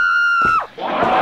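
A woman's high sustained scream in a radio drama crowd scene, loud and close, breaking off into a rough, noisy crowd clamour with shouting.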